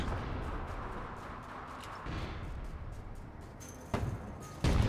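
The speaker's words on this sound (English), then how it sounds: "Stupid nade launcher." A grenade launcher in the online shooter APB Reloaded thumps out a couple of punchy shots near the end, heard over steady gunfire and game noise.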